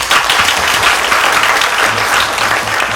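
An audience applauds steadily at a consumer electronics event honouring an award recipient, a dense, sustained wash of clapping from many hands throughout, with no voices over it.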